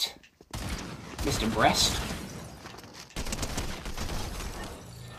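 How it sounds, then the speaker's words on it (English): Shotgun blasts ring out in a Fortnite match, a few sharp reports scattered over about five seconds amid game noise, with someone talking over them. "And that's why I hate that shotgun"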